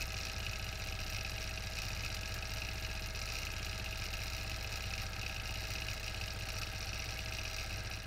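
Sewing machine stitching a quilt guided with micro handles, a steady fast mechanical whir and rapid rhythmic needle chatter running continuously at moderate level, close by.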